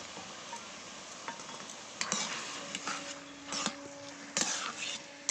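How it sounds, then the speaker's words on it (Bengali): Boiled papaya pieces simmer in sugar syrup with a soft, quiet bubbling as a spoon stirs through the pan, producing light scraping and clinking against the metal. "এবার আমি ভালো করে জাল করে নেব যাতে শিরাটা পেঁপের মধ্যে ঢোকে"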